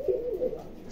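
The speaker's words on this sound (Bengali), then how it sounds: "এই যে আমি কবুতরটা আপনাদের সামনে দেখেন ভিউয়ার্স, ধরতেছে" A pigeon held in someone's hands gives a soft, low, rolling coo that swells and fades across the short moment, close and quiet, with no other sounds competing.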